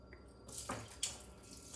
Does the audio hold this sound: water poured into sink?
yes